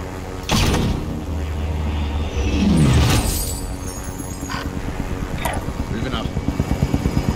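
A helicopter's engine and rotors thrum steadily in a battle-royale video game, with a rising whine midway and a rhythmic chopping pulse toward the end, while players talk over it.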